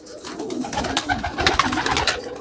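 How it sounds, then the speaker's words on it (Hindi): Racing pigeons coo at a pigeon-keeping setting near Jaipur and Tonk, with soft, throaty, repeated rolling calls that are close and fairly loud and overlap continuously for a couple of seconds. "और एक कबूतर ये जी।"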